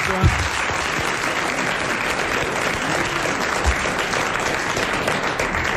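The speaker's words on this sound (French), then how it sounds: "Vous l'applaudissez comme elle le mérite." Studio audience at a French television game show applauding a contestant who has just won, a dense, continuous wash of clapping that holds steady throughout at full volume.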